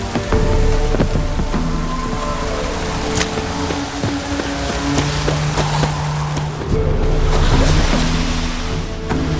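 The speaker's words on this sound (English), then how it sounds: "Good downpour this is." A heavy downpour in the video game The Witcher 3 keeps up a dense, steady roar of rain for the whole stretch, with low game sounds and faint tones mixed underneath.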